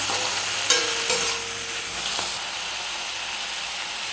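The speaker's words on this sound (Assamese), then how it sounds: "এতিয়া তাতে পাস্তাখিনি দি দিছোঁ" Pasta sizzles steadily in hot cow ghee in a wok while it is stirred, with a couple of sharper scraping knocks early on and a constant close frying hiss throughout.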